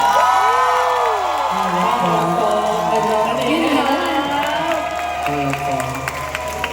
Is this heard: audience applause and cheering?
yes